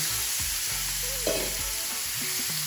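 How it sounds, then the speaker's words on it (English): Shrimp dropped into a hot pan for spicy jerk shrimp sizzle steadily, a broad constant frying hiss with a brief louder burst as they land, clattering faintly against the pan. "So I'm gonna go ahead and put the shrimp in."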